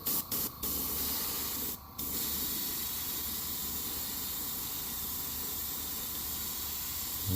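An airbrush or spray gun hisses steadily while coating a swimbait in golden titanium white base paint, a close continuous spray broken by a few short pauses near the start.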